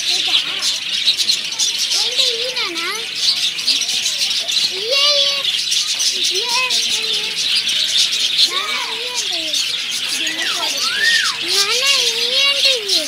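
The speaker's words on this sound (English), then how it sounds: "Love birds." Lovebirds at Nehru Zoological Park in Hyderabad chirp and whistle in short rising and falling calls. The calls repeat over a constant busy aviary chatter, and voices can be heard in the crowd nearby.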